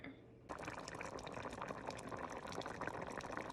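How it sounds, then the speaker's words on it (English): Covered pot of pinto beans and pork simmering on the stove, a steady close bubbling and liquid churning that starts abruptly after a brief quiet moment and continues evenly throughout. "I'm covering them and letting them simmer"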